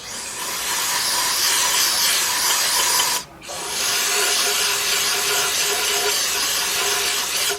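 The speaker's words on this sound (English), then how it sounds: "take my carburetor cleaner and clean up all that mess around them seats" Carburetor cleaner sprays in a steady, loud aerosol hiss over the valve seats of a 2003 Jeep Liberty Sport 3.7 engine during a partial rebuild, with one brief pause around midway before the spray resumes.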